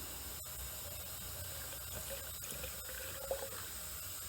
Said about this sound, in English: So here's our seafoam. Let's pour a little bit in there.